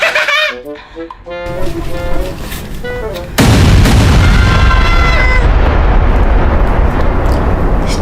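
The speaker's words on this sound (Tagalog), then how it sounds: "kung sino yung mas malakas ang putok ng boga." Loud improvised boga cannon blasts, a heavy sustained boom that swells and fills the air after a stretch of shouting and chatter, with voices still audible beneath the roar.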